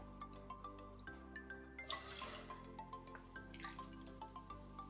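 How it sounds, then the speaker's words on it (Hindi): Water being poured from a measuring cup into a cooking pot while making gulab jamun syrup, a soft trickling and dripping splash running faintly under steady background music, with no talk. "इसमें मैं डाल दूंगी तकरीबन 4 कप के करीब पानी। पानी हम इस मेजरिंग कप से मेजर करके डाल रहे हैं"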